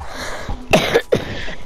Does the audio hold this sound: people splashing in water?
no